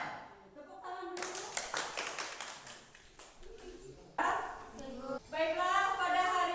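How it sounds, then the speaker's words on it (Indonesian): A classroom of students clapping hands in a brisk, irregular burst lasting a few seconds. It is preceded and followed by voices talking and calling out nearby. "Tepuk tangan dulu."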